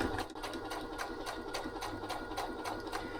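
Sewing machine stitching poplin fabric for a small coin purse, running steadily with a rapid, even needle rhythm close by, no talking over it.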